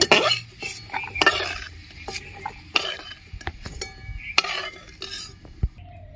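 A metal utensil clinks and scrapes against a pan while fried food, made with chickpea lentils and luchi, is lifted out, giving sharp irregular clatters near the mic with faint sizzling between.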